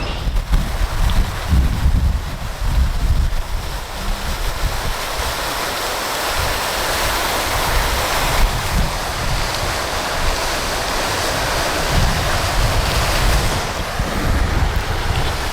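Water jets at Montreal's Old Port spray in a continuous rushing hiss, mixed with gusting wind buffeting the microphone, loud and close throughout.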